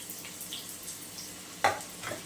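Onions frying in oil in a pan give a quiet, continuous low sizzle and crackle, with one brief clatter partway through.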